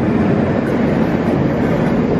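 The Galactica roller coaster train sweeps past as a steady, loud rushing roar that fills the whole moment without a break, with no voices.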